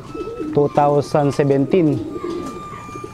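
Racing pigeons coo up close, a run of about five throaty, rolling coos in quick succession that fade out near the end, with a voice briefly speaking alongside.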